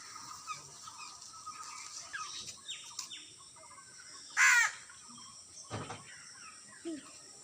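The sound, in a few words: crow cawing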